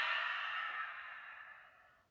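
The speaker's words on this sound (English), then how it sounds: "Open mouth, exhale as we hinge forward." A single long open-mouth exhale during a yoga session, breathy and close, starting strong and fading out gradually over about two seconds.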